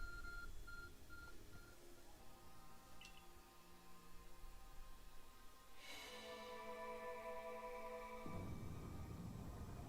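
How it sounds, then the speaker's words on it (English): An electronic device in Pokemon Legends: Arceus chimes through a run of steady synthetic tones and beeps, building to a bright sustained chord before cutting off, heard alone without talk. "Is that the arc phone the professor was going on about?"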